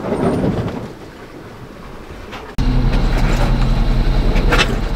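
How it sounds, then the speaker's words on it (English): A sailboat motoring under engine power on a calm passage to Greece, a steady low droning rumble with water and wind noise that jumps abruptly louder partway through and stays constant. "That is the sound of us motoring."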